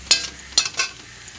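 Fried onions (birista) being lifted out of hot frying oil, with a few sharp scraping stirs against the pan over a soft, steady sizzle, close and loud with no talking.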